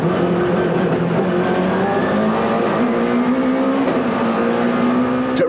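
Touring race cars at Aldo Scribante in 1996, a BMW and a Scania Audi Quattro 80 running together down the main straight, with loud continuous engine drone rising steadily in pitch under acceleration and no voices.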